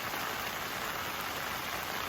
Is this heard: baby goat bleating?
no